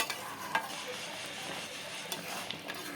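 Chicken cooks in its own released water in a pan, with a steady close sizzle and repeated scraping stirs and occasional light knocks of the spoon against the pan.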